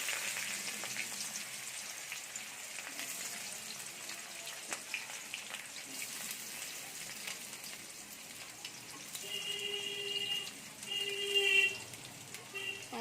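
Chopped onions frying in a pan for chicken rosa, a steady broadband sizzle running throughout with occasional stirring and faint intermittent beeping tones near the end.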